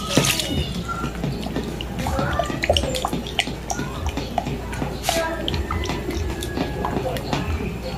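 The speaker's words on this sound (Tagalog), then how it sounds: "Lagay natin yung ating purong gata ng nyug." Pure coconut milk is poured slowly into melted glutinous rice batter for kutsinta and stirred in, giving a steady wet sloshing and dripping with scraping, while a voice talks over it.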